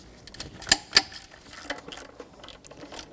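A ratchet wrench clicks in short irregular bursts while breaking loose engine bolts on a 2014-2019 Toyota Corolla 1.8L four-cylinder, with a few sharper metallic clacks standing out near and loud.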